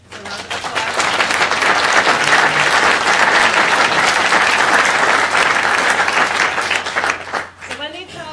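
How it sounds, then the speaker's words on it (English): A large grassroots community crowd gathered at a constituent meeting breaks into loud, sustained applause that swells and holds for several seconds, then tapers with a few voices rising near the end. "round of applause"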